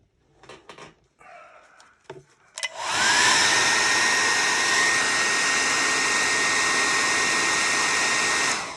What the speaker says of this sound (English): once dried off with the old hairdryer